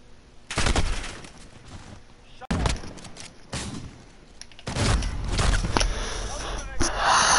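Gunfire from a Call of Duty Modern Warfare match, several loud broadband bursts with short gaps between them, mixed with game noise and a voice talking.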